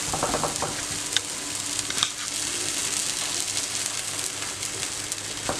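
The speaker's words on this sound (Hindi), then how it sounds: "तवा गरम करना है और उस पर थोड़ा सा ऑयल, घी, बटर जिससे भी आपने पराठे को तलना है वो लगा लें।" A makhan cheeni paratha fries in oil, ghee or butter on a hot tawa with a continuous close sizzle and a couple of sharp pops along the way.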